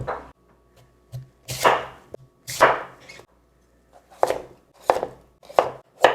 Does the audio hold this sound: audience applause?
no